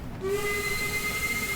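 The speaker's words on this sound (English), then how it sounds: "hitting the whistle." A steam locomotive whistle in Train Sim World 3 sounds as a sustained, fairly loud blast over hissing steam and rail noise, starting after a brief moment of quieter running sound.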